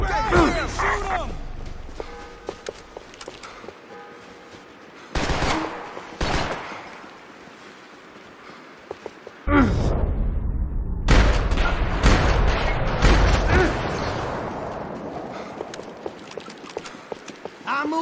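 Gunshots from the shooter game Max Payne 3 ring out in sharp single cracks and longer rattling bursts across a tense firefight, some near and loud, with voices talking between volleys.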